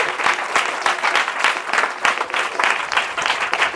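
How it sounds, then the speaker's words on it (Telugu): A church congregation claps during a Sunday service, a brisk crowd of hands beating in a loose rhythm at moderate volume, with no voices over it. "give claps to the lord and celebrate Jesus"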